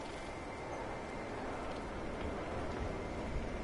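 Torrential rain falls in a multiplayer building game, a dense, unbroken roar of downpour at even loudness throughout, with no voices.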